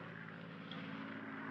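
A small airplane's engine drones steadily in flight, a continuous, close, even hum with no break or change in loudness.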